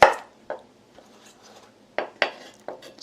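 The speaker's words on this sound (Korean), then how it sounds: "여기다가 그래도 모양 있게 당근 좀 몇 개만 썰어 놓을게요." A knife strikes a cutting board while slicing carrots for oyster pancakes, several sharp, close taps spaced irregularly, with a pause in the middle before a quicker cluster of cuts.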